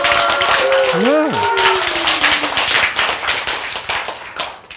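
A lecture audience claps in a brief burst of sharp, fairly close hand claps, with a speaker's voice sliding over it. The clapping thins out into scattered taps toward the end.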